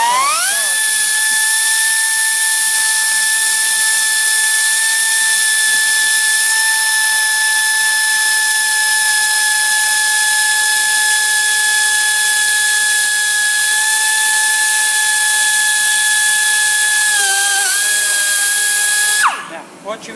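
A high-pitched drill whines steadily and loudly for a long stretch while drilling out a welded hole in a car bumper, its pitch holding level before slowing and cutting off near the end.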